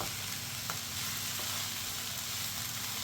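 Grated coconut fries in a pan of mutton curry, giving a steady, close, even sizzle throughout with a faint scrape of stirring and no speech.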